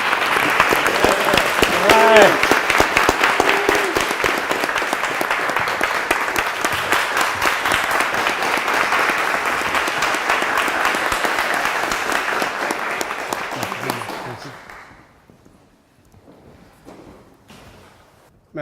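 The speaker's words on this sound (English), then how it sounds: "Can we please give a round of applause?" A seated audience gives a sustained round of applause, dense clapping that holds steady for many seconds before tapering off, with a brief spoken word over it.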